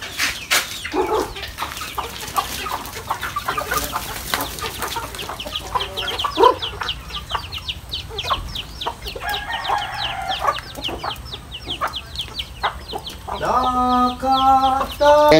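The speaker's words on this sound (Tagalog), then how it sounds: "Pakain natin ating mga manok." Chickens cluck and chatter continuously at close range while being fed, with a rooster crowing and bursts of squawking toward the end over a busy farmyard background.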